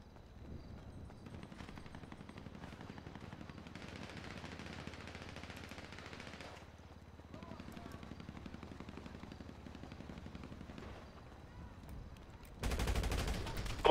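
Gunfire in a GTA roleplay game session, with a steady clattering stretch of rapid shots mid-distance, a pause, more bursts, then a sudden louder blast near the end.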